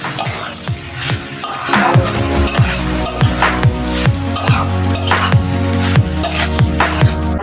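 Jackfruit and prawns sautéed in spices, with a loud close sizzle and repeated rhythmic scraping and clanking of a spatula against the pan, no speech.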